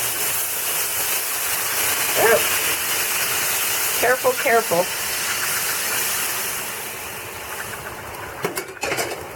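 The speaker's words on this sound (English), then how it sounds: "add my water. And be very careful because the steam will pour out" Water poured into a hot pot of basmati rice with chicken sends up a loud, steady rush of hissing steam that runs through the whole stretch, while a person speaks briefly over it.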